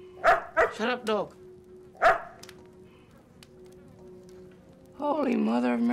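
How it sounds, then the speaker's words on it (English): A dog in a dramatic film scene lets out a quick series of sharp barks, then one more bark, followed by a longer whining or yelping sound, fairly close over a quiet background. "Shut up, dog."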